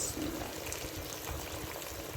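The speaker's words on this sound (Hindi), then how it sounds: "अब इसमें मैं अपने हिसाब से पानी डालूँगी।" Boiled water poured into a pan of chicken and pea curry gravy in a home kitchen, a steady close liquid rush lasting the whole moment.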